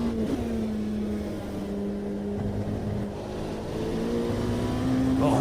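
A race car's Cosworth engine in the Automobilista 2 sim: a loud, steady, close droning whine whose pitch dips and climbs with throttle and gear changes.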